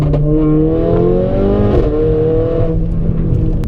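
A stage 2 tuned Mercedes-AMG GLA 45 accelerates hard, its engine note climbing steadily in pitch as it revs up, loud and close, then easing off near the end.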